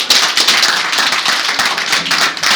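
Dense applause from a crowd at a teachers' union founding congress, adopting its statutes by acclamation, steady and bright throughout with no pauses, loud and close.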